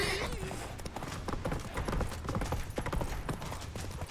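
Horse hooves clip-clop steadily at a trot in The Witcher III video game, a continuous rhythmic thudding with game music and voices mixed underneath.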